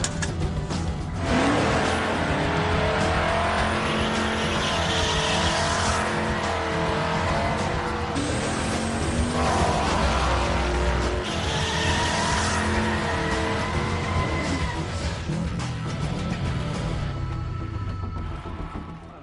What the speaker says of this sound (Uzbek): Poygada turli tuman mashinalar qatnashmoqda.